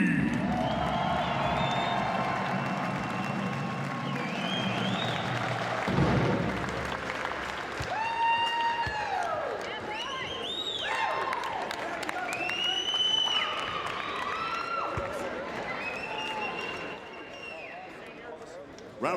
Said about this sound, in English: Ladies and gentlemen, a round of applause one more time for your 2014 Utah Valley Wolverines.